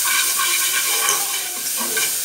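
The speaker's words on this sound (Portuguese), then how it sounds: "Vou refogar essa cebola." Chopped onion sautéing in a cooking pot gives a steady close sizzle and frying hiss with faint stirring, without any talk.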